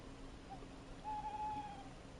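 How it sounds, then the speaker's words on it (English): An owl hoots faintly in the background, a single drawn-out tonal call held for under a second over a quiet, steady room hiss, with no talking. "There's a random owl just making noise back there"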